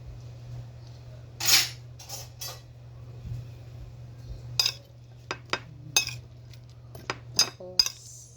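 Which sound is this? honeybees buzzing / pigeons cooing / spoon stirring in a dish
spoon stirring in a dish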